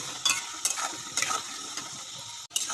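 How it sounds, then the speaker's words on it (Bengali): Potatoes frying in a pan with salt and turmeric, stirred with a utensil in several quick scraping bursts over a soft background sizzle, close and fairly quiet. "এবার নাড়বেন।"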